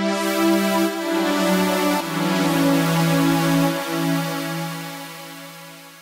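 An Alchemy software-instrument synth in Logic Pro plays a rich, sustained tone, holding long notes that shift pitch every second or two before slowly fading, with no voices present.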